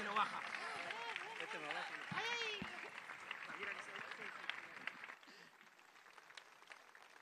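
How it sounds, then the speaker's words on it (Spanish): Applause from a rally audience at an Argentine political event in Rosario, a dense wash of clapping that runs steady for about five seconds and then thins out, with voices heard over it. "Fuerte aplauso para Graciana"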